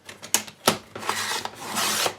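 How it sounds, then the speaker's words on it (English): Scissors cutting a 2 1/4 inch strip off a sheet of paper for a flipbook: a few sharp, close snips followed by a longer dry, rasping slice through the paper. "So I'm going to cut the 2 1/4 inch off here first."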